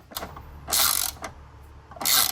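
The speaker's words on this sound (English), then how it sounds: "We'll undo the 3 strut top bolts here." A hand ratchet loosening the strut top bolts on a Subaru WRX, producing several short bursts of rapid clicking separated by brief pauses, close and fairly loud with no talking.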